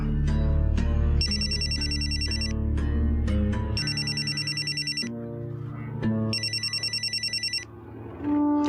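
An unanswered telephone rings in three electronic trilling bursts, loud and close, set against dramatic background music with brief sharp musical hits between rings.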